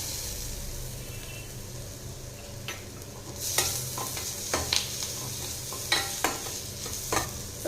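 Tomato pieces are stirred into frying masala for chilli broccoli, with a steady sizzle underneath and a few sharp scraping strokes of the spoon against the pan, close and clear, no talking.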